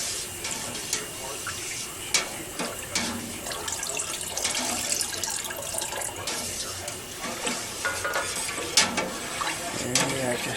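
Water mixed with calcium chloride being stirred into milk for homemade Colby cheese, a steady watery swirling with occasional clinks and splashes throughout, close and moderately loud.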